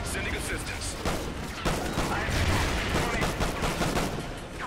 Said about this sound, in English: That wasn't long until a massive firefight already.